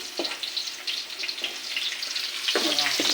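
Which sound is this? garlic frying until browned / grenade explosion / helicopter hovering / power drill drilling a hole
garlic frying until browned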